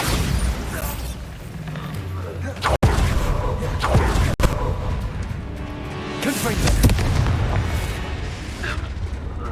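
A Bombarda blasting spell in Hogwarts Legacy: deep rumbling booms and thuds from the game, with a couple of sharp impacts and a swelling explosive roar near the end, loud and dense.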